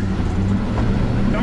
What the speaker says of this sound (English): I'm gonna run it in second gear in four low. See if I can get some speeds up.